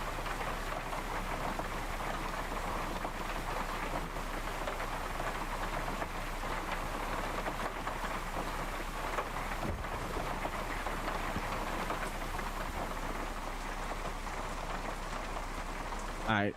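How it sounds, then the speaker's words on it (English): Steady light rain from a thunderstorm in a sim racing game hisses evenly and continuously throughout, with a low rumble beneath it. "Alright, so we're gonna do a light thunderstorm."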